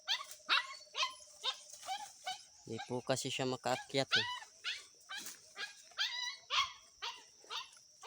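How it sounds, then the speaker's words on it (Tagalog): A dog barks repeatedly in quick, yapping bursts close by, with whimpering yips between, while a person speaks briefly. "Ang ingay po ng aso ko"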